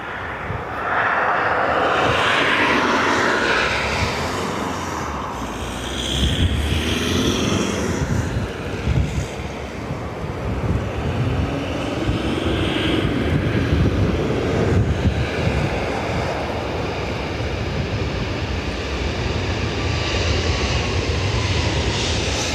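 A Ryanair airliner at Dublin Airport gives a loud, continuous jet engine roar under wind noise on the microphone, swelling and easing over the span.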